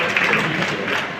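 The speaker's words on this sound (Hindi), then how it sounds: "जोरदार तालियां बजाकर स्वागत करें" Audience applause welcoming a teacher at a teachers' honour ceremony, a steady, dense wash of clapping that holds evenly throughout the short stretch.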